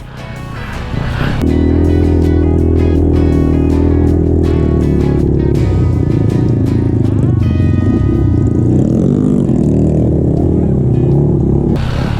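A motorcycle climbs uphill through mud on a steep trail, its engine droning loud and close with rising and falling revs, plus clattering and scraping from the wheels and frame.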